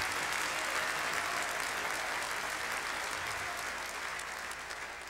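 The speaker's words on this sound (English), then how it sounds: "clap your hands for it." An audience at a men's Christian conference claps steadily in a dense, sustained wave of applause that slowly softens toward the end.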